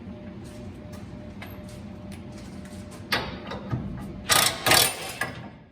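A ratchet wrench releases preload on a coilover from a 6-inch Rough Country lift kit on a 2001–2010 Chevrolet Silverado/GMC 2500 HD 4x4, clicking steadily at close range, then finishing with several louder, sharper metallic clacks.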